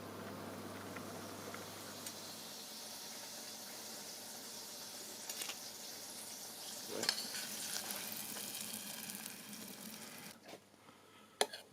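Chicken sizzles and simmers steadily in a covered pan, a soft continuous frying hiss with a brief louder clatter near the middle and a sharp knock at the end.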